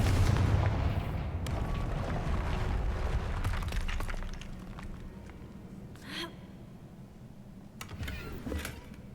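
A Confringo blasting spell bursting in Hogwarts Legacy, a loud booming explosion at the start that rumbles and fades, followed by scattered debris crackles and softer impacts.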